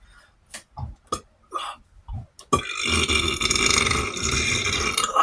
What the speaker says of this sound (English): these are the kind of burps you get when you eat some good hearty food